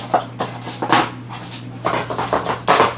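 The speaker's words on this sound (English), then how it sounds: "Sorry about the dog in the background. He won't stop." A dog in the background pants in quick rhythmic bursts, mixed with soft whimpers, fairly close and clear over a steady electrical hum.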